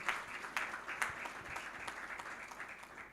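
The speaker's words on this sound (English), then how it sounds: "Can we clap for him, please?" An audience claps at a building groundbreaking ceremony, a quiet, fairly distant patter of many hands that holds steady for a few seconds.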